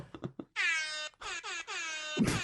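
A person mimics an air horn with their voice, blaring several long, loud, buzzy honks separated by brief gaps, close to the microphone in a comedy podcast setting.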